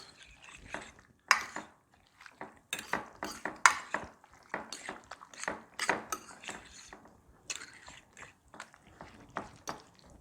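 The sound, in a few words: mixing casserole ingredients in a bowl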